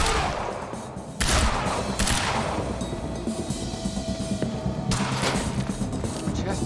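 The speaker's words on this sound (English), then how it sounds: "He's got a gun! Open fire!" Soldiers in the video game Quantum Break fire weapons in sustained bursts, a dense rattle of gunshots with sharp louder cracks at intervals, loud and continuous with no talk.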